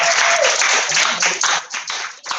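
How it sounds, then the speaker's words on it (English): Applause from the audience at a live online English class event, dense continuous clapping that stays loud and steady across the clip, with a faint voice underneath. "Please give applause for our."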